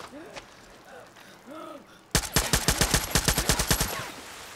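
Rapid automatic gunfire rings out in the Far Cry 6 video game, a loud burst of about a dozen evenly spaced shots that follows a few seconds of quieter ambience with faint creature-like calls.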